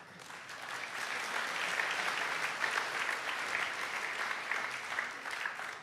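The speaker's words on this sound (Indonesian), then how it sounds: "belum beres sudah tepuk tangan" A church congregation breaks into steady, dense applause during a sermon, clapping continuously for several seconds at an even level.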